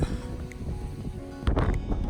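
Strong mountain wind in Shenandoah National Park buffets the microphone in low, roaring gusts, growing rougher and louder toward the end.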